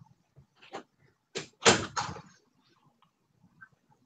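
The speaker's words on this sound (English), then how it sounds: "Close the door behind you, please," A door is pulled shut in a room with a couple of soft knocks and then a cluster of solid thuds as it closes fully, followed by near silence.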